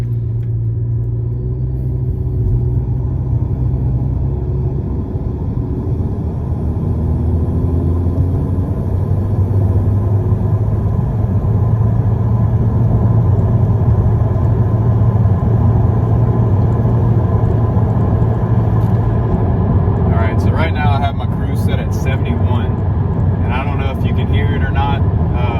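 Loud, steady low road rumble and tyre roar fill the cabin of a 2018 Honda Civic Sport Hatchback cruising at about 70 mph, with music playing faintly underneath and brief clicks near the end.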